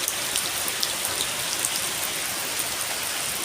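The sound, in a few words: rain falling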